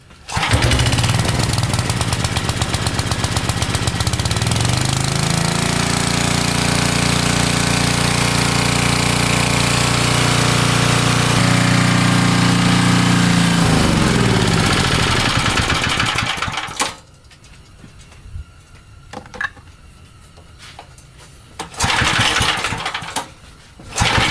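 An old Dayton alternator generator engine runs loudly and steadily with a rough, rattling drone, then cuts out abruptly, leaving brief clatters before it roars up again.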